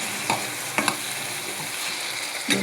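Drumstick and mutton curry sizzles in a pan while a spoon stirs it, with a few soft scraping strokes over a continuous frying crackle, close and clear, no voices.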